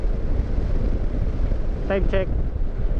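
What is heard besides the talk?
fresh wind blowing while travelling on the road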